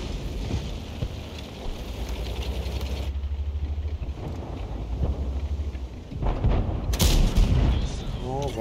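Cannon fire from tanks in a World of Tanks battle: several deep, booming shots and rumbling blasts with loud combat noise throughout, and one sharp, bright report near the end.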